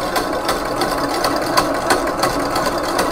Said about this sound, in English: We need to whisk it to stiff peak.